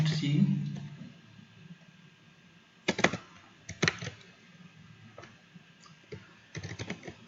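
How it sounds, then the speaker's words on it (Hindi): Soft computer keyboard typing comes in scattered bursts of clicks with a few louder clusters, faint and close, over a low room background, with no talk. "मैं यहाँ पर एक स्टेट के अंदर कुछ भी वैल्यू यहाँ पे टाइप करूँगा"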